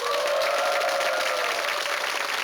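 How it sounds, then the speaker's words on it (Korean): Studio audience at a Korean TV program applauding a leading team, a short burst of full, dense clapping from many people with a faint tonal hum running underneath. "박수 한번 보내주실까요?"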